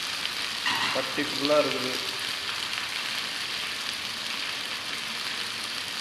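Pieces of fish frying in a pan of hot oil, a continuous loud sizzle and crackle throughout, with a person speaking briefly near the start.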